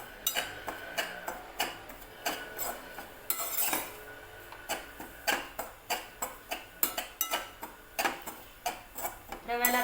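A spoon repeatedly scrapes and knocks against a metal pan while a jaggery mixture is stirred for sheera over a low gas flame, giving a steady run of close, sharp clinks about once a second.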